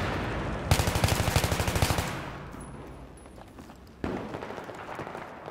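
Rapid automatic gunfire from Battlefield 3 team deathmatch on the Operation Firestorm map, a dense close burst of rounds followed by quieter distant shots and another sustained burst near the end.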